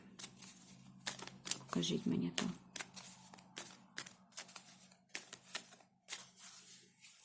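Crisp papery riffling and flicking of tarot cards being shuffled in quick bursts, close by, with someone speaking Ukrainian over and between them.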